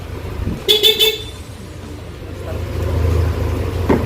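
A short stock car horn sounds in a quick burst of beeps over a low idling engine rumble, then the engine hum continues alone.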